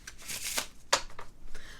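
Playing cards are shuffled by hand up close, with a few quick riffling bursts and soft snaps, quiet with no talking.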